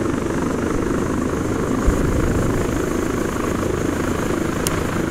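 A helicopter flies in ARMA 3 with fog around it, its steady rotor and turbine drone loud and unbroken throughout, with no voices over it.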